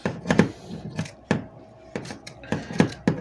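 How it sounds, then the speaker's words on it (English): Scissors cutting out fabric pieces for a kaftan dress, a series of crisp close snips and clicks in an uneven rhythm with no talking. "I'm going to cut out my back neckline first, and then I'm going to cut my shoulder slope"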